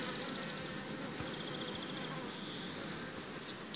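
Faint, steady honeybee buzzing hums continuously in the background, low and diffuse, with no voices, during queen rearing at an apiary.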